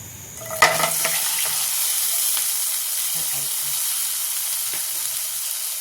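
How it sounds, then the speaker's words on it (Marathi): Medium tomato and green chilli pieces sizzle and spit in hot oil in a pan, a sharp burst near the start giving way to a steady close frying hiss, with occasional soft scrapes of stirring. "आता हलवायचं हलवायचं दोन तीन मिनिट होऊ द्यायचं"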